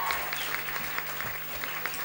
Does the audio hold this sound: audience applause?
yes